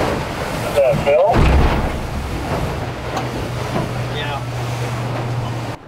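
Ocean waves and swell wash around a fishing boat out at sea off Alaska, with steady wind noise, a low motor hum and brief voices near the start.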